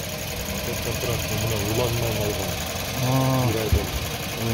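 A car engine, an imported used unit with a new battery, idles steadily nearby with a low, even hum while someone talks over it.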